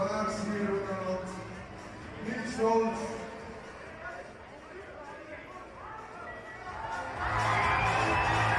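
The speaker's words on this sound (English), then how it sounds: "the crowd raise the decibels in the ice dome" Crowd cheering in an ice dome arena during an ice climbing speed final, a swelling roar of voices rising near the end under a commentator's talk.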